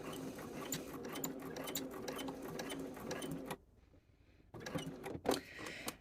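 Close sewing machine stitching through two layers of fabric on a shirt sleeve placket, a steady rapid mechanical whir for several seconds, then a pause and a short burst of restarted stitching.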